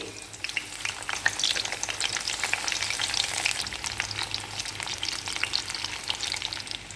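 Round slices of bitter gourd sizzle and crackle steadily in hot oil, a dense continuous frying hiss with occasional stirring, close and moderately loud with no talking.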